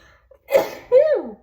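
A single close, loud human sneeze, a short intake followed by a sharp burst.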